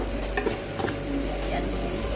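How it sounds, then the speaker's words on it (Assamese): Boiled potatoes and tomatoes frying in a spice masala with butter, a dense continuous sizzle with a few soft stirring clinks, close and fairly loud, no voices. "এই মছলাখিনি প্ৰায় হৈ গৈছে আৰু এতিয়া দিম মই ইয়াত আলু আৰু বিলাহী যে বইল কৰি থৈছিলোঁ"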